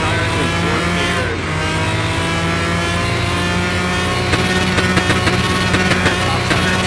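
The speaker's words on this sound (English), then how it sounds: "we're gonna see how fast we can go on this thing too for a high speed run" A Pagani supercar in Car Mechanic Simulator 21 on a high-speed straight-line run, its engine roaring loud and sustained at high revs with a steady harmonic drone and faint tire noise, close and unbroken with no talk.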